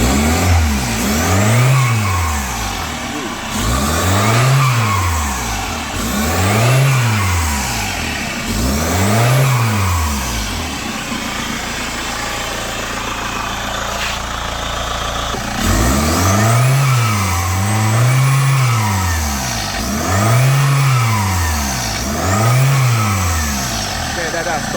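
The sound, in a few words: Chevrolet Captiva 2013 diesel engine revving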